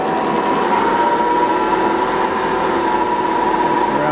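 Mopar 360 V8 engine with a rebuilt Mallory distributor idling steadily around 650 rpm, a continuous even hum with no breaks, close and loud, without talk.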